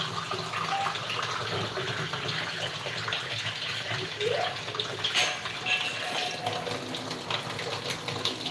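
Water gushes steadily into a cooking pot while a stew is being made, a continuous close splashing pour with a few small knocks and no speech.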